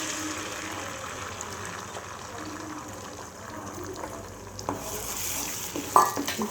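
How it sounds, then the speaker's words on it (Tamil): Beaten eggs frying in oil in a pan for a murtabak filling, sizzling steadily while being stirred and scraped, with a few louder knocks near the end. "ஒரு பேனில் எண்ணெய் ஊற்றிட்டு நம்ம முட்டையை ஊற்றிக்கலாம்."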